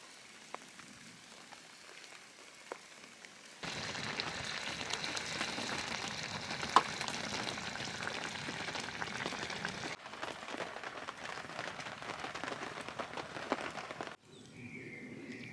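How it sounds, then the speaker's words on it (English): Rain falls on a bell tent in the woods as a dense, steady hiss of drops on canvas that swells louder partway through and shifts in texture, heard from inside with no voices. "The rain has started, as you can hear."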